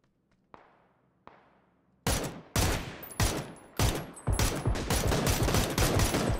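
Gunfire in the video game PUBG: two faint isolated shots, then loud, close bursts of rapid fire with brief pauses between volleys.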